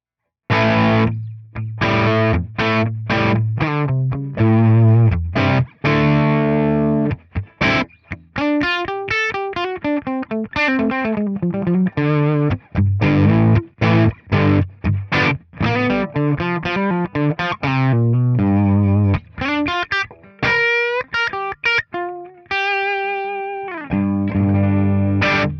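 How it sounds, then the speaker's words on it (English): A Gibson SG plays through a Helix Soldano SLO 100 amp model with only amp and cab active, miked with a ribbon mic. Loud, continuous distorted electric guitar riffs with chords and single notes fill the whole passage. "this is what it sounds like while I'm playing my Gibson SG"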